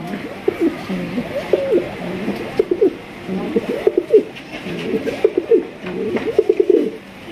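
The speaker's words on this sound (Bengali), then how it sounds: "দেখছেন ডাক দেখেন, অন্যান্য ডেনিশ কিন্তু ওইভাবে ডাকে না, আর এটা কিন্তু মাশাআল্লাহ প্রচন্ড প্রচন্ড ডাকে" A Danish pigeon coos loudly and insistently in several rolling, throaty bursts, close at hand, with short pauses between phrases and faint background noise.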